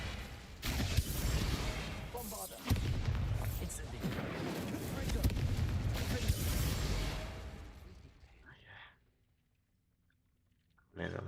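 Repeated spell blasts of Bombarda, Incendio and Confringo in the Hogwarts Legacy video game come as loud, dense booming bursts and whooshes in steady succession, then fade to near silence near the end.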